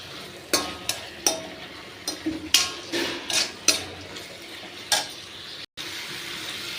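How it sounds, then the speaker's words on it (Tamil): Tomatoes sauté in a hot pan with a little turmeric and coconut while a spoon stirs them, giving a soft sizzle broken by about a dozen sharp scrapes and clinks against the pan. "இது நல்லா கொஞ்சம் தக்காளி வந்து வதங்கட்டும்"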